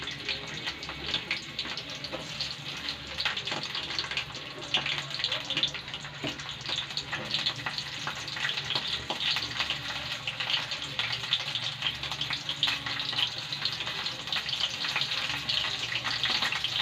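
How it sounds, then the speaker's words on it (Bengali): Cauliflower florets fry in a wok (kadai), giving off a continuous, fairly loud hissing sizzle with faint crackles that hold steady from start to finish. "প্রথমে কড়াইটার মধ্যে আমি একটু ফুলকপিগুলো ভেজে নিচ্ছি।"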